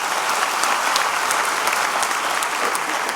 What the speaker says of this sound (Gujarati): જોરદાર તાળીઓથી એમને વધાવી લો.